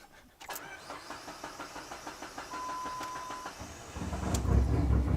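A car engine on a vehicle with an idle air controller fault cranks in a steady, rhythmic starter churn, fails to catch, then rises into a heavier, louder rumble at the end, close by with no talking.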